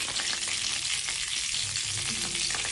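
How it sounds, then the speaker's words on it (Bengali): Nigella seeds crackling in hot oil for a Bengali mustard hilsa fish curry, a dense, loud, continuous sizzle throughout with no voices. "এখন সেই তেলে কালো জিরে দিয়ে দিচ্ছি,"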